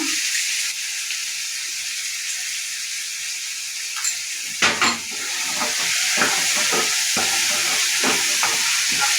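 Soya chunks tossed with salt into a hot tempering in a pan, a soft steady sizzle that jumps with a couple of clattering stirs midway, then crackles on with frequent scrapes of the spoon.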